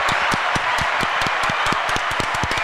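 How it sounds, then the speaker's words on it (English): Studio audience on a talk show applauds in a dense, steady wash of clapping with sharp individual claps popping out, loud and continuous throughout with no speech over it. "Round of applause."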